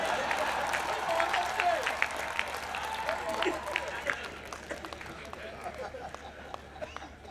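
Applause from an audience, a dense wash of clapping that swells and gradually fades, with some voices mixed in.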